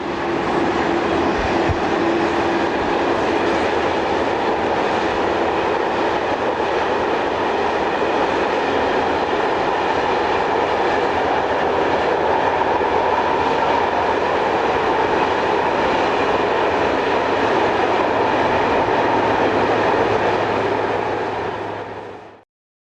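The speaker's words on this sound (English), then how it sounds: "This is the 1500 departure from Brennero, hauled by number 3 and number 7" A train hauled by two electric locomotives, similar to the Italian E412, departs Brennero with a steady, loud roar of traction motors and rolling wagons that holds for over twenty seconds before cutting off abruptly.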